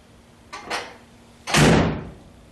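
The door of a 1976 Corvette is handled: a short metallic click and rattle, then a louder, longer clunk and sweep as it swings open, close to the microphone, with no alarm sounding afterward.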